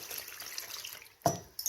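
Water is poured into a jar of preserved grape leaves, a soft trickle at first, then a sudden close splash and a second shorter splash near the end, with no talk.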